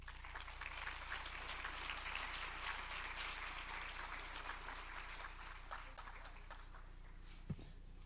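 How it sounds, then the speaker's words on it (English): Steady applause from a convention audience for presenters at a Huntington's disease research showcase, a dense continuous patter of clapping lasting throughout, with one sharper clap standing out near the end. "Please, another round of applause for everyone who presented this afternoon."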